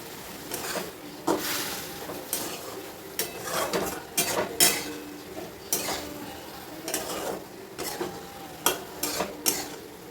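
Vegetable stir-fry with crushed peanut powder being stirred in a pan, a spoon scraping and clinking against the metal in irregular strokes with a faint sizzle underneath, close and moderately loud.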